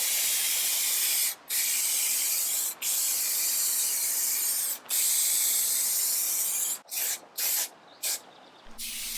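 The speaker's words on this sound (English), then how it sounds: "You literally just spray both surfaces with the contact adhesive" Contact adhesive sprayed from a can onto surfaces during a cabinet restoration: loud, close aerosol hissing in long bursts separated by short pauses, ending in several quick spurts, with no voices.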